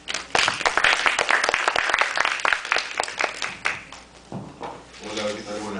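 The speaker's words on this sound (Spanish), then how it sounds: "por favor, recibamos con un fuerte aplauso." An audience at an evening law and economics lecture claps to welcome the speaker, a loud, dense burst of applause with sharp individual claps that thins out toward the end.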